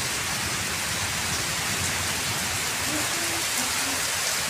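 Steady heavy rain falls in a continuous dense hiss, with faint low sounds beneath.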